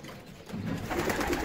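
Pigeons cooing softly in a breeding loft on a sunny winter day, low murmuring calls overlapping in a quiet, moderately distant chorus with no talk.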